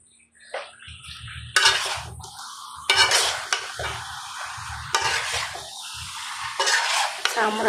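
Chicken pieces with skin sizzling in a karahi with onion, tomato, garlic, ginger, turmeric, chili, cumin and coriander, while a utensil stirs and scrapes in repeated bursts, loud and close over a low steady hum.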